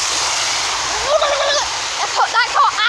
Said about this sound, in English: That car actually got water on my face!